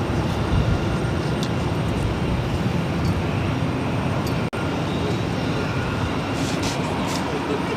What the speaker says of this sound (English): This is United Airlines 748 taking off to Denver on 737-800.